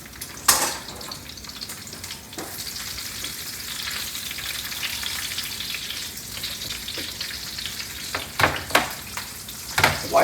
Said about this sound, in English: now I'm going to put some sun-dried tomatoes in there